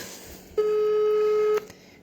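A steady electronic telephone tone holds one pitch for about a second, loud and clear against faint room noise, then cuts off abruptly.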